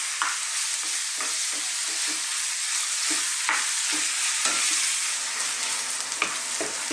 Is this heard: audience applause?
no